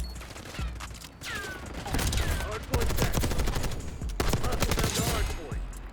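Rapid bursts of automatic gunfire from an XMG machine gun in the shooter game Black Ops 6, with repeated volleys at close range that start and stop through the match and keep up a steady, loud din.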